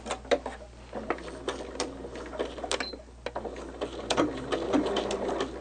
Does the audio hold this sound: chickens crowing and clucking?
no